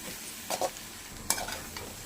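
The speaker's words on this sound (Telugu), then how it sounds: "ఇప్పుడు ఎగ్ అంతా కాస్త డ్రైగా అయింది కాబట్టి ఒకసారి మొత్తాన్ని కలుపుకుందాం" Egg being stirred in a hot pan for street-style egg noodles, with a soft steady sizzle and a few brief scraping strokes of the spatula, close and fairly quiet.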